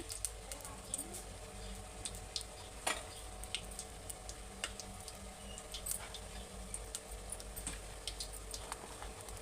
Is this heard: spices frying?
yes